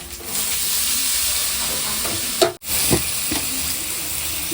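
Tomatoes tossed into sautéed onions in a pan, a steady close sizzling hiss with a few sharp stirring knocks and a brief dip, no voices over it.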